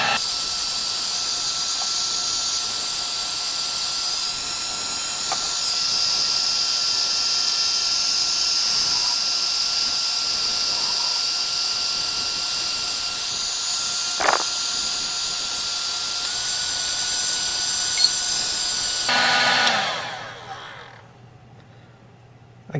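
A drill bores steadily through a wooden cabinet, a long continuous high whine that holds for about twenty seconds before winding down into a low fading hum.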